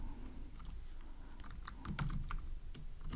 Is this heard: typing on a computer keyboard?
yes